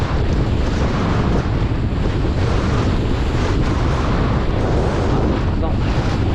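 Strong, gusty wind roars continuously against the microphone while kitesurfing on open water with an oversized kite, a loud, steady buffeting that fills the whole stretch with no pauses.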